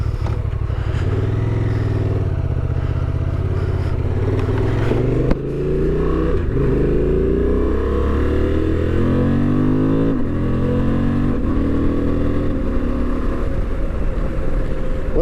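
A Honda Transalp 750 motorcycle engine runs loud and close while riding at night, rising and falling through revs and gear changes in a steady drone with wind noise.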